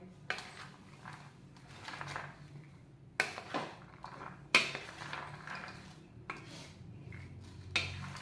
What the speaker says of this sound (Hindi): ऐसे ये आलू टूटे ना और ख़राब ना हो, ऐसे आस्ता आस्ता से इसे मिक्स करते जाएं।